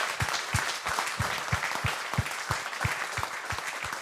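An audience applauds warmly at the SMEP 2016 closing ceremony, a full room of clapping with a pronounced, regular rhythmic beat running throughout.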